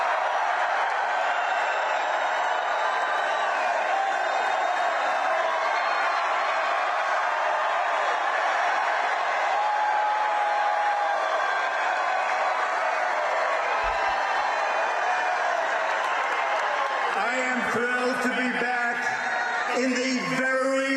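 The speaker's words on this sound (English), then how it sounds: "This is part of what it sounded like, just the crowd." A large crowd roars and cheers at a presidential rally in a 9,000-seat arena in West Virginia, a sustained wash of voices and shouts, with a loud amplified voice cutting in near the end.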